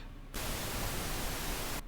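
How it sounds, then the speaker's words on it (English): Steady downloaded white-noise recording hisses evenly across the whole range, starting abruptly after a brief quiet moment and cutting off just before the end, loud and unbroken throughout. "I had downloaded white noise, which is this thing"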